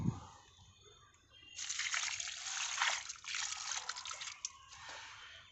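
Water pours onto the soil of a potted dragon fruit plant after fertilizer is added, a steady close splashing trickle that varies in strength for several seconds, with no talk over it.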